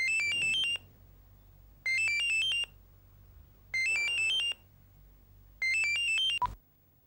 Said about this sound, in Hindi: शिव, ये सेल फोन भी है ना अच्छी मुसीबत है।